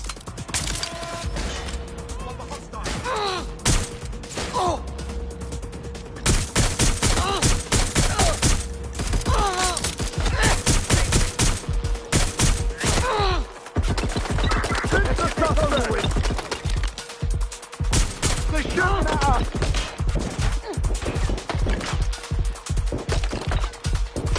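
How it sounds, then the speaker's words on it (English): Sustained gunfire in the game Watch Dogs Legion, long bursts of rapid, loud cracking shots that run almost continuously, with brief shouted voices mixed in. "Incoming fire!"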